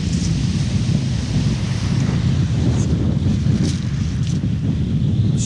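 Strong, gusty wind on a seashore buffets the microphone in a loud, continuous low roar, with possible surf underneath and no speech.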